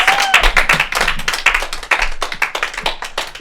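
A small comedy club audience applauding a comedian, dense, close, loud clapping with sharp individual hand claps and a few cheers, sustained without a break.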